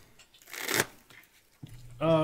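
Magic: The Gathering cards shuffled before a game, a burst of riffling flutter peaking mid-clip, with a voice briefly talking near the end.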